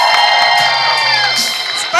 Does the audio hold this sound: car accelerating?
no